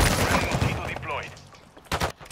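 Gunfire from Modern Warfare 3 comes in a dense burst of rapid, loud shots near the start and then tapers off. A second short crack of fire follows near the end, with a faint voice present in between.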